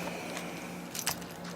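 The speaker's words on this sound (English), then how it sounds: "Here's my car keys." A set of Volkswagen car keys jangles softly at close range, with a few brighter metallic clinks rising above a constant low hum.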